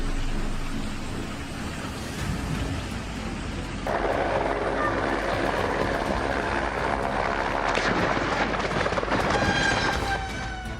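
A helicopter tangled in power lines near the Auckland coast drones steadily and fairly loudly throughout, its churning rotor noise thickening partway through.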